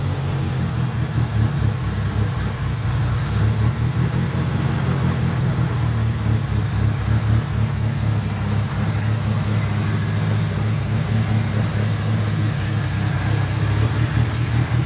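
A Honda B-series engine runs with a steady low drone close by, holding a fairly even note with a slight rise early on, and no talk over it.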